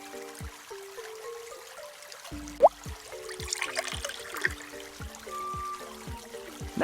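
Cartoon water pouring from an egg to fill a hole in the Dinosaur Train game, a brief trickle and splash set against a bouncy, stepping melody of musical tones.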